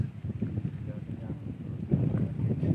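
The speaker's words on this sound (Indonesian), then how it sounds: "Angin, guys." Wind buffets an outdoor microphone beside water while fishing for archer fish, a steady low rumble with gusts strengthening near the end and brief voices mixed in.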